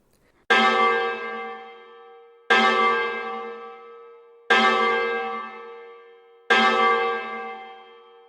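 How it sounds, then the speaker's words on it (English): A church bell clangs for midnight, four loud, evenly spaced strikes about two seconds apart, each ringing out and slowly decaying before the next, with no voices. "Hearing the clanging bell eased his anxiety. It just turned midnight."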